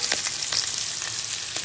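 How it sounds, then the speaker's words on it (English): Steak frying in a pan gives a loud, constant sizzle with a few sharper pops and crackles, close and filling the short stretch without any voices. "You guys probably aren't going to be able to hear us very well. Why? Because of the sizzle."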